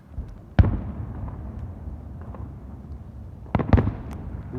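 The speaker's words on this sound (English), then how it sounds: "And look at that beautiful firework here." Fourth of July fireworks burst at a moderate distance: one sharp bang, then a quick cluster of two or three pops a few seconds later, over a steady low outdoor rumble.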